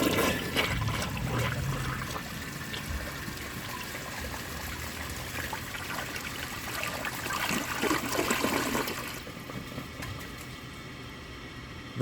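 A 1991 Kohler Wellworth toilet on a standard flapper flushes with a loud rushing swirl of water lasting about nine seconds, then drops to a quieter trickle as the tank refills.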